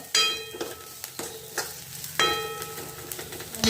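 Vadas frying in hot oil with a spoon stirring, sharp scraping clinks and bursts of sizzling repeating irregularly over a bubbling base, close and fairly loud.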